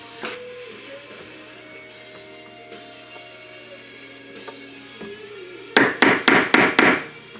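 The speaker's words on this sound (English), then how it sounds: "I'm doing that to have a guide for the drill bit. It's like a punch hole" Five sharp metallic hammer strikes on a punch, making a guide hole for a drill bit, land in quick succession near the end, after a stretch of quiet workshop noise with faint taps and a low hum.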